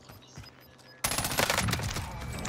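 Video game shooter gunfire: after a quiet second, a sudden dense burst of rapid automatic shots rattles on continuously, loud and close.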